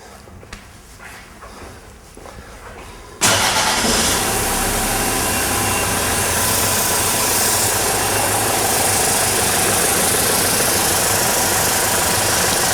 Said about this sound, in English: We'll switch the extractor on, start the engine, and come back and then open the valve.